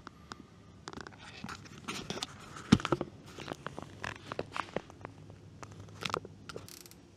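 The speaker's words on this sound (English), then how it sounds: "So I'm just going to wire tie them to this washer." A plastic zip tie is ratcheted tight around trailer wiring at a washer, producing a run of quick close clicks and zipping rasps with small handling knocks.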